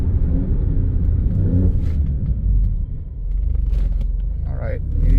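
A car cruises at 40 to 50 mph to bed in new brakes, its steady low road rumble and engine drone continuing throughout, with a voice speaking over it.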